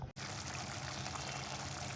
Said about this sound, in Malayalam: കുറച്ച് വെള്ളം ഒഴിച്ച് വെച്ചിട്ട് ഇത് മൂടി വെക്കാൻ പോവാണ്